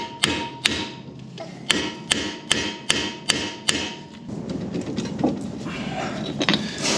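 Sharp metal-on-metal hammer strikes on a steel steering knuckle of a Jeep Gladiator ring out in a steady series of about nine blows, then give way to softer clattering and rustling.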